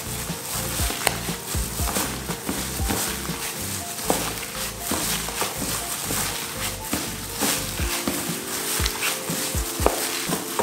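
Flour being stirred into mashed potato for chicken croquettes: steady, close scraping and clattering of a utensil against a bowl, with irregular knocks throughout and no talking.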